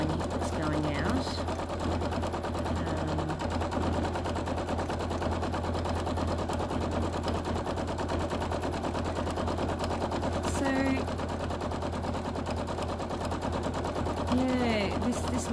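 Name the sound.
sewing machine quilting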